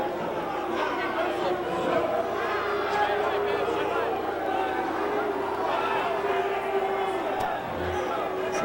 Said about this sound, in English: Some boos from the crowd here.